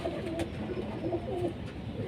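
Pigeons coo in soft repeated rounded calls, close and steady throughout, with faint background noise.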